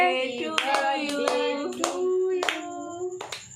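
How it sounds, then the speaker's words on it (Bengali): Several loose, irregular hand claps ring out close by at a home birthday party, about half a dozen in a few seconds, mixed with voices. "এই তো হাততালি দে"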